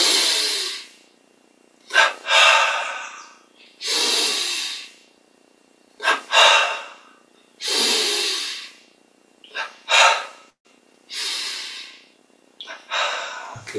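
Repeated forceful breathy exhalations during a guided breathing and stretching exercise, about nine separate hissing breaths spaced a second or two apart, close and clear with silence between them.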